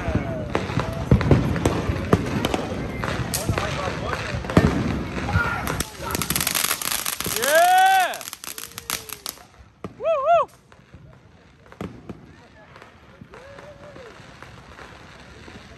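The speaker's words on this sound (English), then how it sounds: "He's not afraid of the fireworks." Loud cracking bursts and crackles of Fourth of July fireworks going off, with a few rising whistles near the middle and end, over background chatter.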